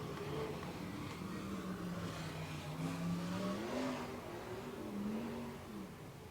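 World of Outlaws sprint cars at Silver Dollar Speedway accelerate behind the pace truck, engines rising and falling in pitch as a pack, loud and continuous with overlapping revving.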